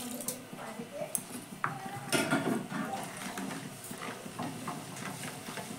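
Sago pearls dropped into medium-hot oil in a pan, with a soft continuous sizzle under scattered clinks and scrapes of a utensil against cookware, moderately close and fairly quiet.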